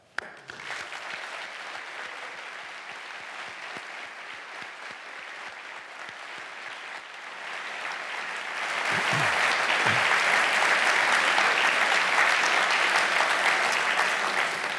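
A crowd at the opening ceremony of a business school building applauding steadily, the clapping swelling louder midway into a dense, sustained ovation with a few cheers.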